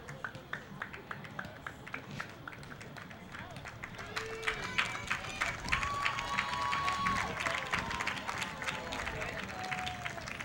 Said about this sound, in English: Richie Santana comes out to a nice applause from the crowd, appreciating his efforts